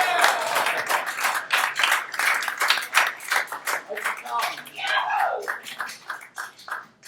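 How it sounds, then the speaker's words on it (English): Loose applause from a small folk-music audience, uneven bursts of hand claps continuing for several seconds after a song, fairly close. "You can clap."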